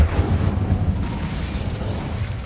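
Incendio fire spell cast in Hogwarts Legacy, a loud, dense whooshing roar of flame sustained throughout without any speech.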